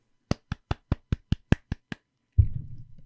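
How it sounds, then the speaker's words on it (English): Nine sharp, evenly spaced hand claps from a single person, close and loud, followed by a brief low rumble with no voices. "I clapped"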